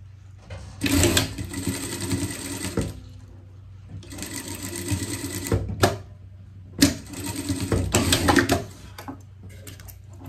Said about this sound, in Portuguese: Vamos pregar aqui o nosso forro. Costura por costura aqui.